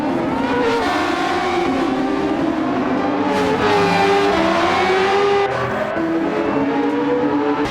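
A racing car engine in the Gran Turismo 7 game revs high and sustained, its loud, continuous note rising and falling with shifts and acceleration, with no talk over it.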